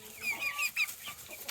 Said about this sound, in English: open the little door so that all these chickens can go out